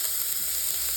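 Carrots sizzle in a pan over high heat, a short, even hiss up close with no talking.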